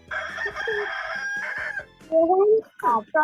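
A rooster crows once in a loud drawn-out call, followed by a couple of short rising calls nearby.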